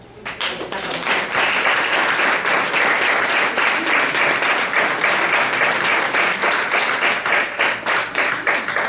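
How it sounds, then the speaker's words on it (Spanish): Applause from the audience at a book presentation, rising quickly into sustained, loud, dense clapping from many people that continues at an even level for nearly nine seconds without speech. "yo sí quiero que todos le demos un gran aplauso"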